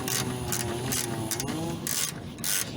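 An 11mm ratcheting wrench tightens a bolt on a solar panel mount on a GMC Safari/Chevy Astro van roof, giving several bursts of quick ratchet clicking with brief pauses, close by over low background hum.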